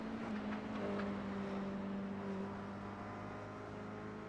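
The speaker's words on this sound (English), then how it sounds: "Car sounded a bit odd." Toyota GR86 racing car engine in a sim racing game at the Nurburgring Sprintstrecke, a faint steady engine drone with a humming tone that dips in pitch and fades slightly, no talk.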